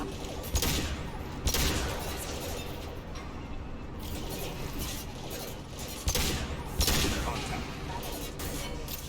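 Machine gun fire in Mass Effect 2 rattles in sustained bursts with a few sharper louder volleys, under game voices and talk, amid a dense combat din.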